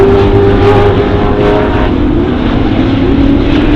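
Australian TransAm Series race cars at Snake Gully roar past in a loud, continuous engine drone, their pitch shifting as the pack passes close by, with no voices heard.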